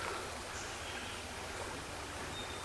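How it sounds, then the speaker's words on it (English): Creek water flowing near an old children's home grounds, a soft, steady hiss of running water, faint and continuous with no other distinct sounds. "There's the creek right there."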